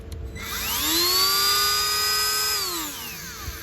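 A small Dremel rotary tool cutting a car bumper whines up to a high, steady pitch, holds it for about two seconds, then spins down.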